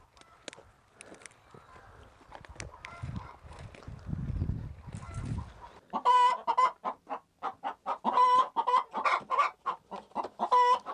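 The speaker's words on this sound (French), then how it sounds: "Tu entends la poule qui chante là?" A backyard hen cackles loudly and repeatedly after laying an egg, a rhythmic run of sharp, close clucks following a quieter stretch with soft low rustling and a faint voice.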